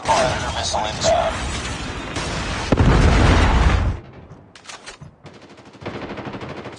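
Gunfire from the video game Call of Duty Mobile comes as rapid automatic bursts and a heavier blast in the middle, with a game voice calling out over the shooting and sparser shots toward the end.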